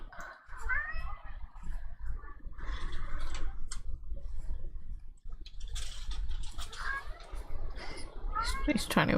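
A cat meows several times in a workshop setting, short rising cries scattered through the clip, mixed with someone talking and light clicking sounds.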